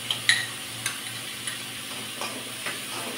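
Tomatoes dropped into finely chopped onions frying in a pan, a soft sizzle with a few light stir and utensil clicks near the start, steady and fairly quiet throughout.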